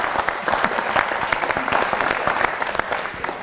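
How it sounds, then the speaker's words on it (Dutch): A local audience applauds a football club promoted from the sixth to the fifth division, a dense burst of clapping from a crowd in a hall, sustained and fairly loud throughout. "Applaus!"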